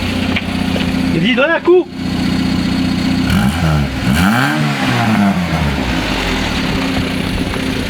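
A Renault 11 GTL engine, restarted after eleven years sitting, revs up with a holed exhaust, a rough mid-pitched roar rising and falling twice, close by, with people talking over it.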